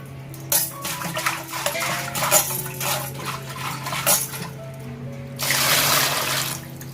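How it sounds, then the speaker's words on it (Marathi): A new clay water pot is washed by hand with water inside and out, giving close scrubbing, rubbing and splashing sounds, then a louder rush of pouring water near the end. "आतमधून आणि बाहेरून दोन्ही साइडला पहिला हाताने असंच वरच्यावर नॉर्मली साफ करून घ्यायचंय"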